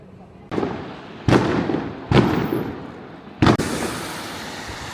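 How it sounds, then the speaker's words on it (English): Firecrackers set off at dawn across a rural village for Chinese New Year, four loud sharp blasts at irregular intervals, each followed by a crackling, echoing decay. "firecrackers wake up the entire village"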